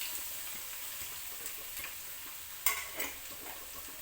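Finely chopped onion frying in a hot pan at home, a steady hiss with a few sharper crackles and a louder spatter burst near the end, no voices.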